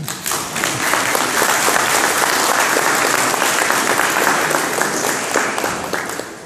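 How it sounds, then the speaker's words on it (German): Audience applause at a panel discussion, dense and fairly loud clapping that holds steady for several seconds and then tapers slightly toward the end. "Mal einen kleinen Applaus"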